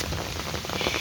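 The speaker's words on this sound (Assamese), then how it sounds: "এতিয়া বৰষুণে মাৰি আছে।" Steady rain falls on a surface outdoors, a dense, even patter of drops with no pauses and no voices.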